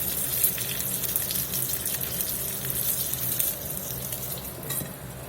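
Blackened halibut sears in a hot pan with a loud, crackling, spattering sizzle that holds steady throughout, broken by a few sharper pops with no talking.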